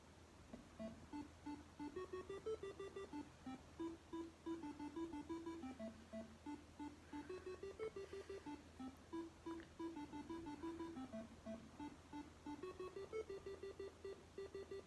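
A student-built digital alarm clock in a lab demo sounds its alarm, a steady repeating electronic beep melody that plays continuously and fairly faintly with no talking.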